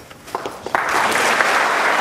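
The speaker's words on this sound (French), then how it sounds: "On peut l'applaudir encore plus fort." An audience at an award ceremony for a rugby honour breaks into applause, a few scattered claps growing quickly into sustained, fairly close clapping.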